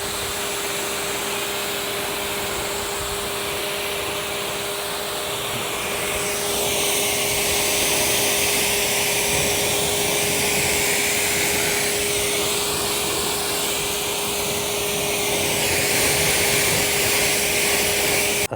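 Water spray rinses off a car wheel and tire, a loud, steady hiss that stays constant and close for the whole stretch, shifting slightly in pitch partway through, with no voices.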